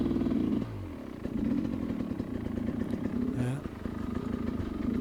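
Sherco SE 300 Factory trials motorcycle engine running steadily while the bike is motor-walked over logs, a close, continuous low chugging drone with a brief dip and a short surge of revs partway through.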